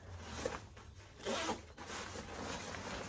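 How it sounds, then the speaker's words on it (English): A zipper on a sauna blanket being pulled open indoors, a soft scratchy rasp that swells briefly in the middle of a quiet stretch with light handling noise. "There's a zipper in here."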